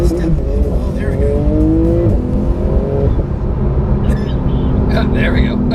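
A 2019 Porsche GT2 RS turbo engine revs loudly and continuously, with rising and falling tones, while people talk over it.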